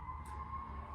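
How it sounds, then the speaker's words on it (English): A faint siren wails in the distance, a thin sustained tone holding steady beneath a low background rumble, quiet and far off with no speech. "you can hear the siren in the background."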